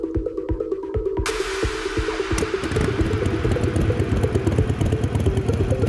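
A cartoon motorbike rides along and is parked, with a steady mid-pitched engine hum and rhythmic low thuds, then a rising burst of broadband noise and a continuous close engine drone to the end.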